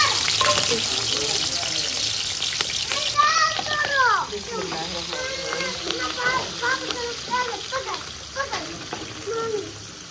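Chopped green chillies sizzle and crackle in hot oil in a village kitchen, a steady close frying hiss with stirring sounds, while someone talks and a voice is heard over it.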